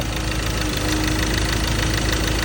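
The 2.2-litre engine of a 2017 Ford Ranger XL idles close up, a loud, steady diesel clatter with an even knocking rhythm and a constant low rumble.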